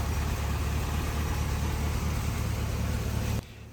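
A 1964 Triumph TR4 engine runs steadily after an ignition timing adjustment, a dense, even mechanical drone with a low throb. It is loud and close, with no talk, then drops away abruptly near the end.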